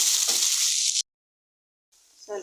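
Crushed ginger and garlic sizzle loudly in hot oil in a pan for an egg roast, a steady bright hiss that cuts off abruptly, then faint frying returns after a pause.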